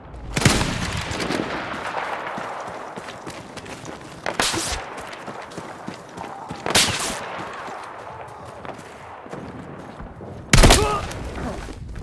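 Gunfire in the video game Battlefield 6: several loud, sharp shots and bursts ring out at irregular intervals over a constant battlefield din, with heavier cracks near the start, middle and end.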